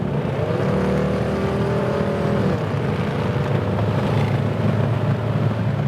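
A 1948 Chevy Fleetmaster coupe with a 350 Vortec V8 accelerates steadily while passing another car on the highway, its engine drone loud and continuous under road noise.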